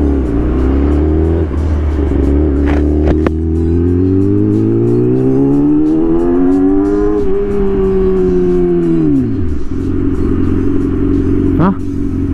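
Yamaha R6 sport motorcycle fitted with an autoblipper, loud and close, engine rising steadily through the revs, then dropping with sharp blips as gears change, and settling back near the end.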